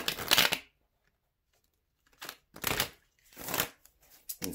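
A deck of tarot cards is shuffled in three quick riffling bursts, close and crisp, separated by short silent pauses.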